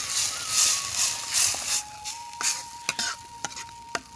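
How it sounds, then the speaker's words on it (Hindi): Spinach and stinging nettle greens being stirred in a pot for Pahadi saag, with soft rhythmic scraping and rustling strokes and a few sharper clicks of the spoon against the pot, close and fairly quiet. "इसमें मैंने पालक और बिच्छू घास भी डाल लिया है। अब इसे मैं अच्छे से पहले मिक्स करती हूँ।"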